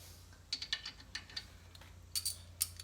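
Tools work on the front brakes of a 2007 Honda Element SC, a series of quiet, close metallic clicks and ratchet ticks in short irregular bursts over a low hum, with no talking.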